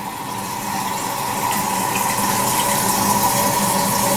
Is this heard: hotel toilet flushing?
yes